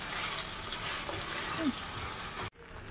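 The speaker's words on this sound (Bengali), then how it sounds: "সসেসগুলো দিয়ে খুব ভালো করে নাড়তে চাড়তে হবে, ভালো করে কুক করে নেবো।" Sausages fry in a pan with a dense, loud, continuous sizzle while being stirred, close up, until the sound cuts off abruptly and returns more softly.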